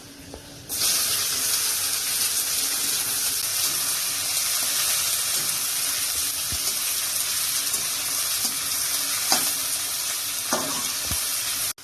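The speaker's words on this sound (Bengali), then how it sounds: "ভালো করে হয়ে গেছে, কুচনো পেঁয়াজ দিয়ে দেবো।" Chopped onions hit hot oil in a pan with a sudden loud, steady sizzle that holds for the whole stretch, broken by occasional scraping and stirring knocks, with no voices.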